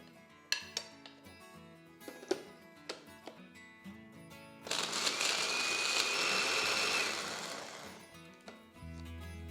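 A kitchen mixer grinds fried cashews, almonds, poppy seeds, coconut and sesame into fine powder, a steady loud whirring burst of a few seconds following clinks and taps of the jar being handled.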